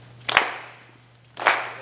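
Two sharp hand claps about a second apart during a library movement workshop exercise, close and distinct against a quiet room with a faint steady hum.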